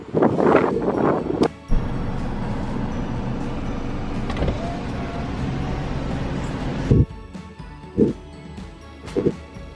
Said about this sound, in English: A nice view, but it's very, very windy.